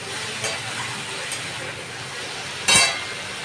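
Fish frying with turmeric in a pan, a steady low sizzle with a couple of sharp stirring scrapes, one louder burst near the end.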